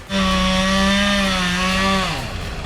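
A chainsaw cuts through a fallen tree in a snowy winter campsite, its engine droning loud and close at a steady pitch for about two seconds before dropping as the cut finishes.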